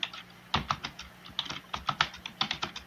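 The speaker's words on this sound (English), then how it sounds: "Somebody's typing loudly at the moment." Loud typing on a computer keyboard during an online role-play game session, a fast irregular patter of crisp key clicks in bursts, close and prominent with no talk over it.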